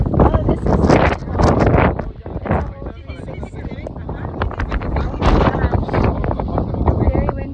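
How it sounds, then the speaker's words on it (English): Strong wind buffets the microphone on a Costa Rica hilltop, a loud rough roar in gusts, with people talking over it throughout. "It's very windy."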